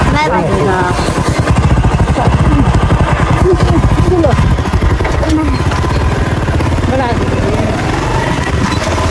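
A motorbike engine runs steadily and loudly beside a river with a stony bank, a continuous throbbing drone under voices talking over it throughout.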